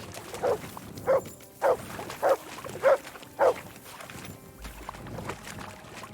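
Mutt the dog in Kingdom Come: Deliverance II barks six times in an even, steady rhythm, each bark short and mid-loud over a quiet background, with no talking.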